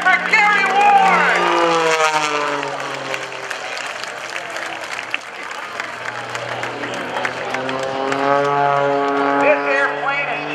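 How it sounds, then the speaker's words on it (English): A carbon-fiber aerobatic propeller plane performing at a naval air station airshow, its engine droning and rising and falling in pitch loudly overhead as a crowd claps and an announcer talks. "This airplane is made out of all carbon fiber"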